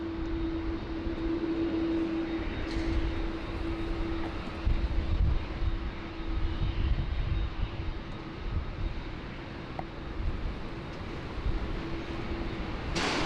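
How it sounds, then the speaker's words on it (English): Distant jet engine rumble of a Jetstar airliner departing runway 16 right at Sydney Airport, a steady low roar with a faint sustained hum, building gently without any voices. "Jetstar 27, ready to roll there on runway 16 right, heading off to Phuket in sunny Thailand."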